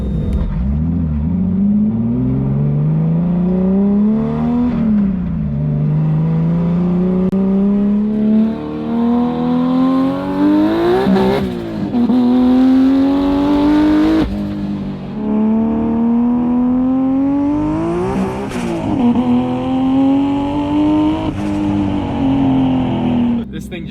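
A 1300 hp BMW E46 M3 with a giant turbo S54 engine and air-shifted sequential gearbox revs hard and climbs through the gears, each loud rising pull broken by quick shift dips, close and sustained.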